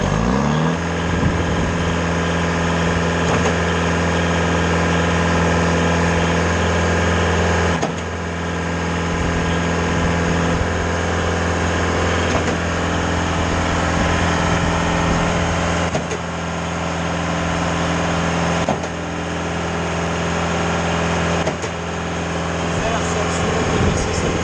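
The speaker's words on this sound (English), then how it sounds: "now I'm ready to pump" A Mayco LS-40 concrete pump engine runs steadily, a loud, constant mechanical drone with a strong low hum and small dips in level, while people talk over it.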